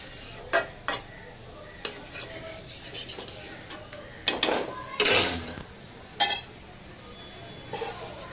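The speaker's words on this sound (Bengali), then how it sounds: "একটু নাড়া দিয়ে ঢেকে দিবে বন্ধুরা" Metal spoon stirring and scraping in a cooking pot of fried fig (jog dumur) curry, with scattered clinks and clatters of utensils and a lid, moderately close and intermittent, with a faint background voice.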